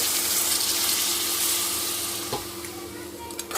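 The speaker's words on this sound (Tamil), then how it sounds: "கொஞ்சமாக தண்ணி சேர்த்து" Water poured into a pan of cooking crab seasoned with salt and lemon, a close, steady hissing pour with sizzling that tapers off toward the end.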